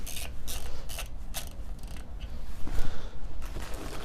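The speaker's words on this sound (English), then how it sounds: "Slowly start threading in our pressure plate bolts." Clutch pressure plate bolts are threaded in by hand on a BMW E36 during an M54 engine swap, giving a series of close, quiet metallic scrapes and ticks in an irregular rhythm, with no talking.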